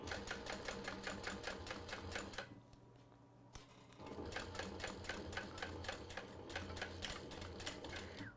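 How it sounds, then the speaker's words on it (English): A sewing machine top-stitches a fabric bag near a zipper head, running in a fast steady rattle, pausing briefly in the middle with a single click, then resuming at the same pace. "And that's it for the top stitching."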